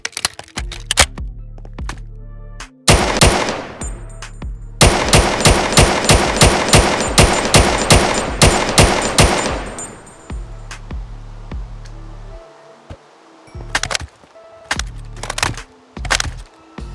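A G3 rifle fires in the Minecraft TacZ gun mod, with loud, close video-game bursts of rapid automatic shots and reload clicks and clunks in between.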